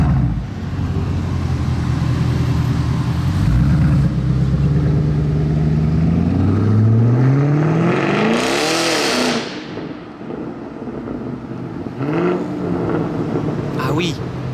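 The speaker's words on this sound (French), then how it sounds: "on va avoir le démarrage de la Camaro d'un abonné, très sympa, il vient de mettre une ligne d'échappement" Chevrolet Camaro fitted with a new exhaust system revving hard and pulling away, a loud rising roar that climbs through the gears, then a brief lull and another burst, with people talking nearby.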